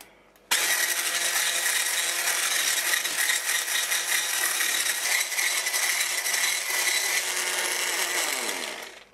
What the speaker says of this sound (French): on blanchit le mélange avec un fouet électrique pour ma part, c'est moins fatigant et beaucoup plus rapide